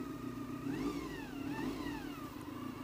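A motorcycle engine runs at a petrol station, a mid-range drone that rises and falls in a couple of gentle revs, steady and fairly close throughout with no talking.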